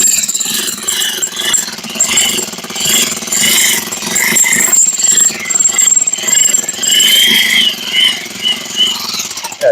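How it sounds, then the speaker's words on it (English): An Einhell electric demolition breaker hammers into concrete with a loud, continuous rattling roar that surges and eases as the trigger is feathered, with no speech over it. "So this is the Einhell concrete breaker."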